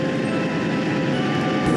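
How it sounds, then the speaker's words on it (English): A passenger train rumbles steadily past, a continuous loud rolling drone with a faint high tone above it. "he saw a passenger train approach from the other direction"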